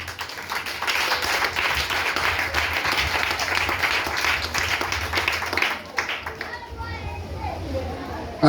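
Church congregation breaks into sustained loud applause with cheering and children's voices, then the clapping stops abruptly and a few voices continue.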